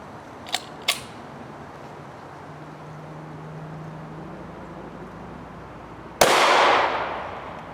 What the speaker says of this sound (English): the 45 ACP Winchester white box 230 grain full metal jacket.